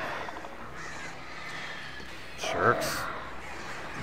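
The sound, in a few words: crows cawing in the video game Alan Wake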